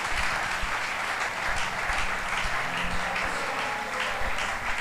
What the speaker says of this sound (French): s'il vous plaît, nous acclamons.